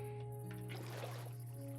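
Water gurgles and trickles as a tank is filled in Minecraft's Enigmatica 6 modpack, a soft watery burble sitting under steady game tones for under two seconds, with no talking.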